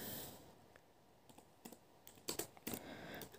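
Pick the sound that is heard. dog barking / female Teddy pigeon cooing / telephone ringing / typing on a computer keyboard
typing on a computer keyboard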